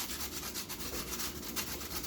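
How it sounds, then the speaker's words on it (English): An apple is grated on a hand grater in a kitchen while baking apple cookies, with soft, rhythmic scraping strokes rubbing back and forth, faint and close. "Grate this apple."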